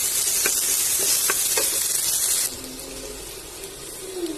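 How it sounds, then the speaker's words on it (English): Sliced onion dropped into the hot oil left from frying prawns, with a loud hissing sizzle and a few clicks of stirring that drop sharply to a quieter, steady frying sound. "Now in the same oil in which we have fried the prawn, I am adding 1 sliced onion."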